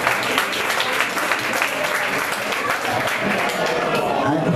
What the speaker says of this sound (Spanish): Un aplauso muy grande para Nelson.